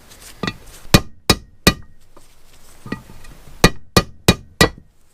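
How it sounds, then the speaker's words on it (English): Sharp light taps from a rubber-handled screwdriver struck against the bearing inner race in a Suzuki TS185 engine case, two clusters of three to four evenly spaced clinking knocks, close and crisp with no talk. "I know it sucks hitting on the inner race like that, but it was just light taps."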